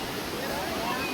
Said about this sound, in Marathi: किती बर्फाचं थंड पाणी आहे, किती वाहते बघा